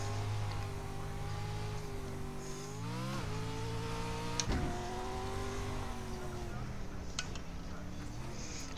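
Pro 2 race truck engine at Crandon in a racing video game, a loud, steady, close roar that dips and climbs with gear shifts and lifts, with a sharp jolt partway through and the revs holding high.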